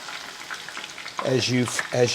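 Dry sliced leeks frying in a pan and being stirred, a soft steady sizzle with light scraping, joined partway through by a brief voice or tonal sound over the frying.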